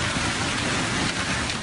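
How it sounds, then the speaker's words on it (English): Heavy rain pours during a violent storm that also brought hail, a loud, dense, continuous hiss and patter with no breaks. "Storms pummeled the area with heavy rains and golf ball-sized hail."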